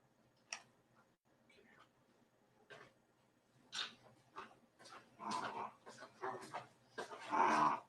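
A pet dog gives several short barks and whimpers, close to the microphone and spaced irregularly. A louder cluster of barks comes near the end, over quiet indoor background.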